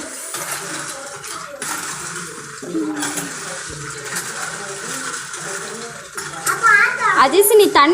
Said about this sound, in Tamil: அஜிஸ் நீ தண்ணி ஊத்துனாதான் நிறைய வரும்.